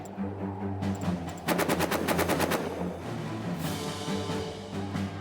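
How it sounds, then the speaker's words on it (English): A stationary machine gun in the trench shooter All Quiet in the Trenches fires a rapid, close burst of about a dozen shots, with a single shot before it and a low ambient hum throughout. "Stationary machine gun."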